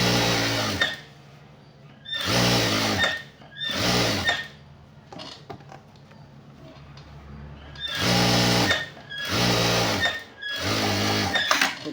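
A sewing machine stitching khadi cloth shorts runs in loud, close bursts of rapid mechanical whirring, with short quiet pauses between runs and faint handling sounds of fabric and machine in the gaps.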